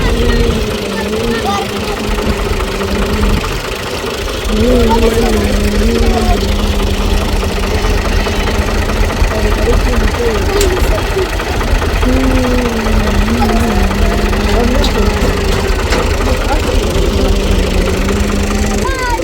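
A tractor engine runs steadily in the heavy rain of a village after starting, a loud low idle with knocking pulses and rhythmic rises and falls in pitch, joined by intermittent voices.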